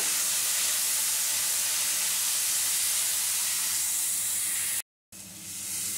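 Masala sizzling and steaming in a pan after salt and a splash of water go in for a mango-leaf fish curry, a loud, steady broadband hiss filling the space, briefly cut off near the end, with no voices.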